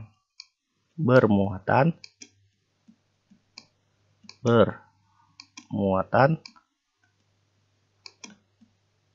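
Faint, sparse computer mouse clicks scattered between bursts of speech, heard while someone draws by hand with a mouse during a chemistry lesson.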